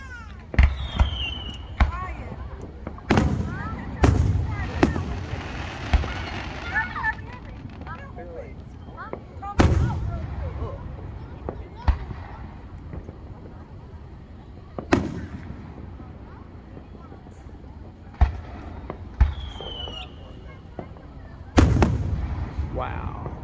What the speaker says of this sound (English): Chrissy, I wonder what kind of fireworks your neighbor's setting off tonight, Chrissy.